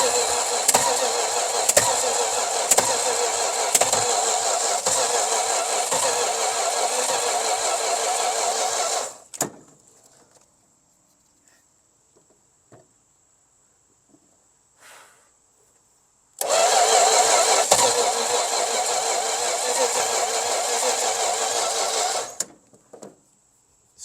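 A starter cranks a seized Slant Six engine, a loud, steady mechanical whirring with rapid rhythmic pulses that runs for about nine seconds, stops into near silence, then starts again for another stretch.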